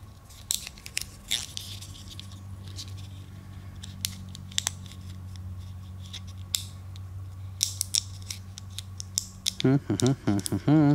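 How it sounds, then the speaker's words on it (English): Plastic wiring loom on an injector harness being nicked and ripped apart, a series of sharp snips, cracks and tearing clicks over a low hum, close, with a voice briefly at the end. "I just nick the plastic, rip it apart"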